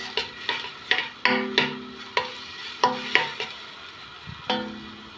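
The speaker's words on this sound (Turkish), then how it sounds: "Soğanlarım kavruluyor." Onions stirred in hot oil in a pan, the utensil scraping in repeated strokes over a soft steady sizzle, close by, with no talking.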